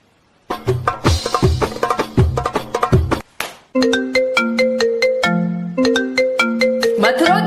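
A phone ringtone plays loudly in a Roblox game, a bright repeating melody that pauses briefly and then starts again, with no talk over it.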